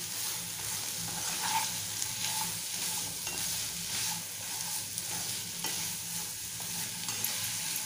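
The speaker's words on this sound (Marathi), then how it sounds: "चवीप्रमाणे मीठ घालून घेऊया। आणि छान मिक्स करूया।" A spicy brinjal and potato curry is stirred in a pan after salt goes in, giving steady close scraping and mixing with a soft sizzle underneath, without talk.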